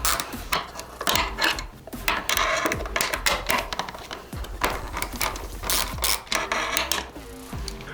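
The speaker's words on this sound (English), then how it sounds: "Using your 10mm socket and extension, undo the forward 2 mounting bolts for the rear fender." A socket wrench with extension works loose the 10mm mounting bolts of a rear fender on a 2024 KTM Duke 390, giving repeated close ratcheting clicks and metallic clatter in uneven bursts throughout.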